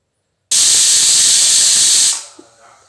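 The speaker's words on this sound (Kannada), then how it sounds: "ಮುಚ್ಚಿ ಒಂದೆರಡು ವಿಜಿಲ್ ಬಂದ ಮೇಲೆ ಓಪನ್ ಮಾಡೋಣ" After a moment of silence, a loud sustained blast of escaping steam hisses for over a second from a pressure cooker cooking beetroot palya, then cuts off and fades.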